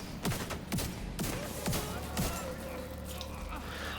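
An AA-12 automatic shotgun fires in The Division 2, five sharp blasts in a quick, fairly regular rhythm over a steady background hum, then the shots stop.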